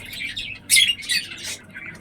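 Lotan pigeons, a breeding pair kept in a loft, call in short bursts of squeaky, chirping notes, several quick calls close by over about two seconds with no talking.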